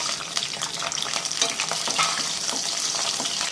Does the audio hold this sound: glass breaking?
no